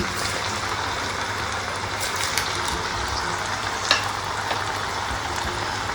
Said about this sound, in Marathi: तर आता आपण हे वडे त्याच्यामध्ये घालून घेऊया आणि चांगले तळून घेऊया आपण दोन्ही साइडनी.